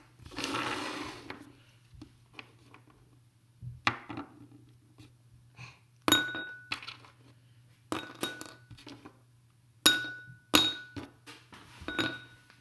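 Small hard rocks drop one by one into a glass bowl, giving sharp, bright clinks at irregular intervals, close and fairly quiet.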